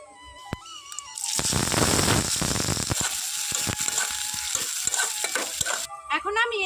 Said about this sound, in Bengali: পাঁচ ফোড়নটা ভালো করে ভাজা হয়ে গেছে এখন আমি দিয়ে দিচ্ছি কুচনো পেঁয়াজ